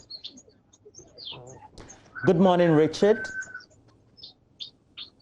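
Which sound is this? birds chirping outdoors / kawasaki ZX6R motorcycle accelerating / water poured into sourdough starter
birds chirping outdoors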